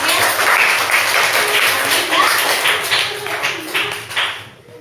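A group claps together in a dense, steady patter of hand claps close by that fades out toward the end.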